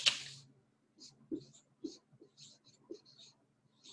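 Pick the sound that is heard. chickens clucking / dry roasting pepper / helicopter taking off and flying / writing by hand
writing by hand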